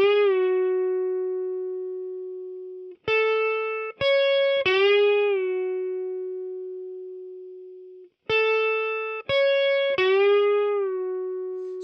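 Electric guitar plays solo phrases from a song, with long sustained bent notes and short picked notes in two similar phrases, clean and loud with no talking.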